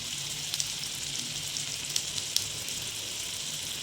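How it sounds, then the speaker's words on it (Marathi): Cumin seeds crackle in a kadhai of hot oil and butter, a steady bright sizzle with several sharp pops scattered through it. "जिरे तडतडले आहेत"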